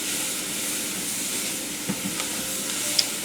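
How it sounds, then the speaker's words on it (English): Vegetables cooking in flour and oil for étouffée give a steady broadband sizzle, with a few faint clinks of stirring near the end. "we are going to cook this until the vegetables are soft and starting to become translucent"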